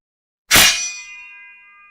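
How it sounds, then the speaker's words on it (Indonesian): A single sharp metallic clang of swords striking in a battle, a bright ringing hit that fades into a lingering shimmer of metal tones, alone against silence. "Pedang beradu."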